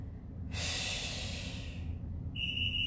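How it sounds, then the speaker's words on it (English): A single big, forceful exhale during a Tabata workout, a breathy rush lasting about a second and a half and trailing off, followed by a brief whistle-like tone. "Big exhale."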